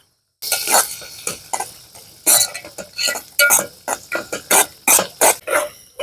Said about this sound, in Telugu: అలాగే కొంచెం కరివేపాకు కూడా వేసుకొని కలిపేసుకుందాం అండి